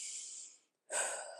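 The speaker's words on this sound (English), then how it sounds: "Big breath in and out." A deep breath during a workout, a long airy exhale that fades to a short silence, then a sharp, strong inhale, close to the mic.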